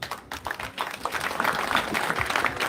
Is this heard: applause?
yes